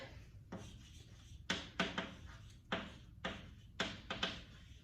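Knocking at a door in a quiet indoor room, a series of soft, dull raps in small uneven groups, faint and somewhat distant, with no talking.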